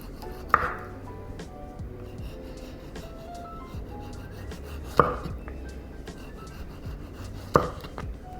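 A knife cuts thin slices of tomato on a board, three separate sharp chops spaced a few seconds apart over a quiet background, with no talking.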